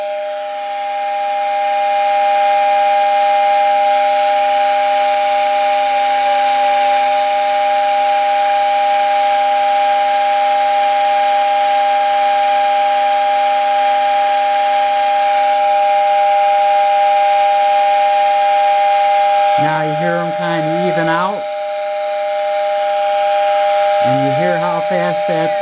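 A postwar toy train whistle, its impeller freshly oiled, sounds as a loud, steady airy tone with a hissing edge that holds for a long stretch, then ends in brief rapid warbling bursts.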